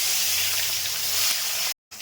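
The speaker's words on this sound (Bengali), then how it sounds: "তেল গরম হয়ে গেছে, এবার মাছগুলো ভেজে নেব" Parshe fish fry in hot mustard oil in a pan, giving a steady, loud broadband hiss and sizzle that runs unbroken before cutting out briefly near the end.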